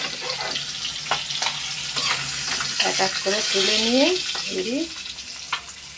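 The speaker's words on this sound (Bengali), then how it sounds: "আগে কই মাছগুলো ভেজে নিচ্ছি" Koi fish fry in oil with a steady, close sizzle and crackle, while a person speaks briefly partway through over the continuous frying.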